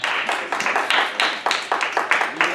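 Audience applause at a school slam poetry workshop, a burst of hand claps with irregular, uneven rhythm, moderately loud and close, with a few voices mixed in.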